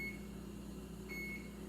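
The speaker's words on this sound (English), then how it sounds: "there goes my timer" A kitchen timer beeps twice, a short tone then a longer one a second later, against steady hum and background noise during a kitchen safety lesson on ovens and stoves.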